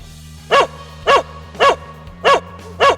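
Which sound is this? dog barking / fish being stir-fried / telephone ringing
dog barking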